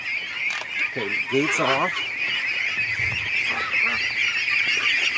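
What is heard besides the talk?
ducks calling while being let out of a pen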